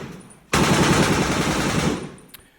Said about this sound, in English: we have a lot of real machine gun and other firearm sounds just as a little extra bonus